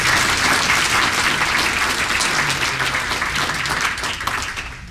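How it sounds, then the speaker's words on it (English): Sustained audience applause fills a county employee recognition breakfast in Washington County, Maryland, honoring staff with tenure; dense, steady clapping from a large crowd that tapers slightly toward the end. "let's have a round of applause for those with tenure."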